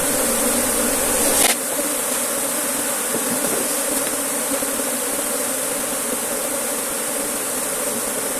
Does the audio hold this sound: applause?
no